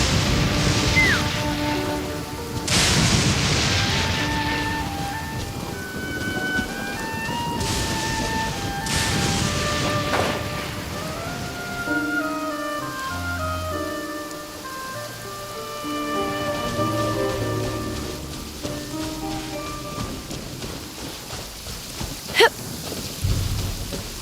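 Heavy rain pours steadily through a thunderstorm in the game Genshin Impact, with loud thunder cracks and lightning strikes breaking through, while game music plays over the storm.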